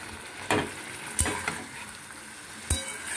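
Cauliflower frying in a pan, a steady sizzle broken by three sharp clinks of a spatula stirring against the metal, close and moderately loud with no talking.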